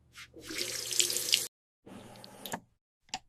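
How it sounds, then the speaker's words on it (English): Water gushes from a tap into a sink during handwashing, a close, loud rush that stops abruptly, then returns briefly at lower volume before a short final splash. "I wash my hands."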